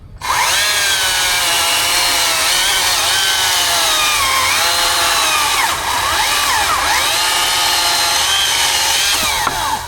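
A STIHL top handle chainsaw fitted with a dulled Hexa chain cuts steadily and loudly for the full stretch, its high whining engine note wavering slightly as the chain bites through wood.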